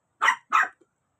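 A dog barks twice in quick succession, close and clear, followed by silence.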